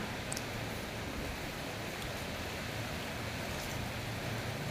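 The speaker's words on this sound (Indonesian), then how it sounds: "ini lagi hujan, jadi ada suara-suara hujan atau agak berisik" Rain falls steadily as an even, constant hiss at moderate distance, with no talking and no distinct individual drops standing out.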